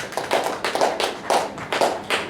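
A church congregation claps in a steady rhythm, about two claps per second, with loud, even beats that carry through a hall.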